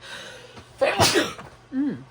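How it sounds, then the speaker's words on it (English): A single close sneeze, preceded by a short inhale, followed by a brief vocal sound afterward. "I have to sneeze."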